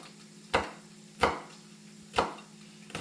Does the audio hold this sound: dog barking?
no